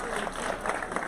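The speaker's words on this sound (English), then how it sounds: "Let's give our incredible panel one more hand of applause." Brief applause from a conference audience for a panel at a women-in-tech summit, a short, fairly faint burst of clapping and crowd noise lasting about a second.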